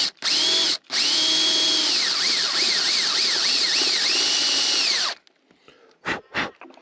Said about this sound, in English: just use the drill part to start it